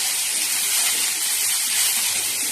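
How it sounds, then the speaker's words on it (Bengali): Onions frying in a pan at home, a steady loud sizzling hiss running unbroken throughout with no talk. "পেঁয়াজ দিয়ে দিচ্ছি,"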